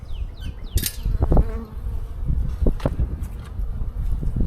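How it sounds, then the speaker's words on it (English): Honey bees buzzing around a hive on a cool day, quick close passes and faint hum over outdoor background noise, with a few brief knocks. "I've got bees"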